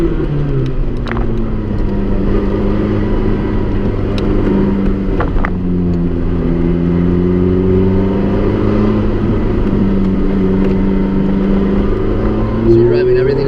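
A Ferrari F430 Modena is held in second gear on an autocross course, its engine droning loud and steady while pitch rises and falls with throttle, and people talk over it.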